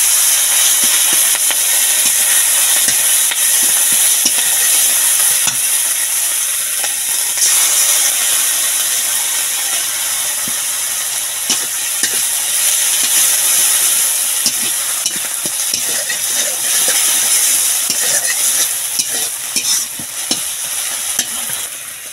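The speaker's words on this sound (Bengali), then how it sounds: "এবার এখানে মশলাগুলো দিয়ে দিতে হবে।" Spices fry and sizzle in hot oil in a pan for a fish curry with taro, a steady close hiss punctuated by scraping stirs throughout, with no talk.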